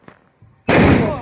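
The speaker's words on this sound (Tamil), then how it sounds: "சிவப்பு கலர் அணுகுண்டு வச்சு நொறுக்குறோம்" A red 'atom bomb' firecracker bursting during a family Diwali celebration: one loud, close blast that rings on briefly after a faint voice and a small sound just before it.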